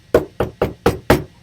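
Five evenly spaced, loud knocks on a door, each sharp and woody, sounding close and alone.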